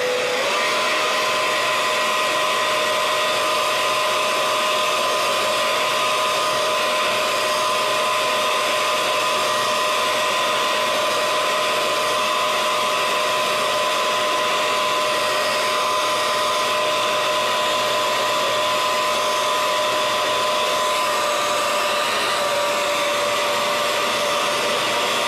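A hair dryer blows close and loud in a long, unbroken steady whine while drying paint on a craft piece, with no talking over it.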